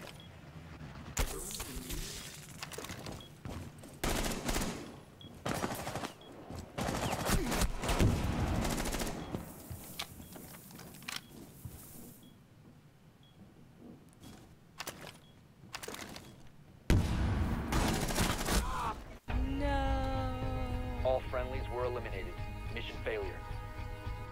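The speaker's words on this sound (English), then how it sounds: "It's a shotgun." Shotgun fire in a video game, a run of loud bursts and scattered shots over the first twenty seconds under a steady background of game sound, followed by a quieter stretch of tonal effects.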